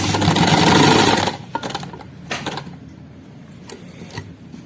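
A sewing machine stitches a shirt placket in a fast, loud continuous run, then stops, leaving a few light clicks and handling knocks.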